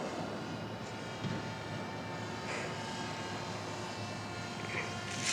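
The steady, faint buzzing drone of a small model airplane engine hums in the distance, holding a fairly even pitch throughout.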